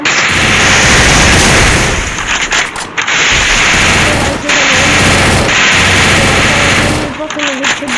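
Loud, near-continuous automatic gunfire in a Free Fire mobile match, crackling in dense bursts with brief gaps, while a player talks over the shooting.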